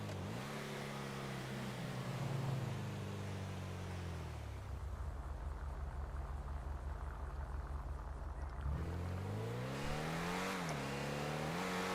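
A car engine in Grand Theft Auto Online, droning steadily and shifting pitch as it revs up and down through gears, continuous and fairly close, no voices.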